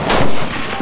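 Gunfire in the World War II shooter game Enlisted: a single sharp report with a short burst of noisy decay, fairly close and loud, with no talk over it.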